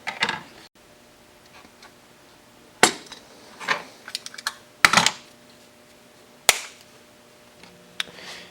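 Scissors or shears snip through a leftover scrap of Kydex thermoplastic sheath material, producing a handful of sharp, separate clicks and crunches spread out over several seconds, fairly close and with quiet pauses between them.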